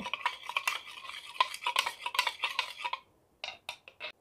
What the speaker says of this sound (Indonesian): Lalu kita aduk.